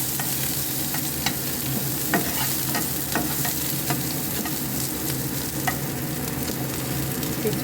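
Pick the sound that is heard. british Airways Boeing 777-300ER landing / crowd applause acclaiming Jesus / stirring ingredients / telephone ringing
stirring ingredients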